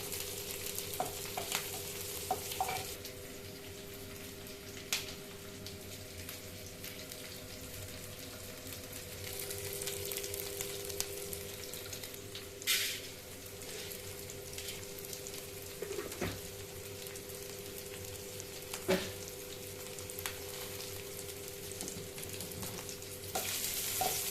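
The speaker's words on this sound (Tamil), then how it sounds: "நல்லா வதங்கட்டும்" Garlic sautéing in a pan for turkey berry chutney gives a soft, steady sizzle with occasional scraping stirs, fairly quiet and continuous, with no voices.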